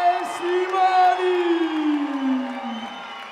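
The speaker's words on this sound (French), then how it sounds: "je voudrais qu'on l'applaudisse comme il se doit" A crowd at a fight night event cheers and whoops with scattered applause, while a drawn-out voice rises over the ringside noise.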